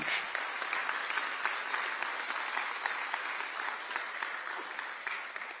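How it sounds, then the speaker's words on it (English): A round of applause from an audience at a Texas governor's event handing out checks to flood-affected residents, steady dense clapping throughout at moderate distance, with no talking over it. "And I think they deserve a round of applause for that."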